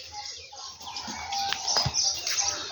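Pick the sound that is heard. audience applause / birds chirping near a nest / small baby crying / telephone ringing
birds chirping near a nest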